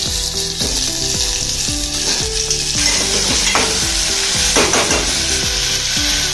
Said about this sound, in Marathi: आता यात मी हा काशी भोपळा सोडणार आहे.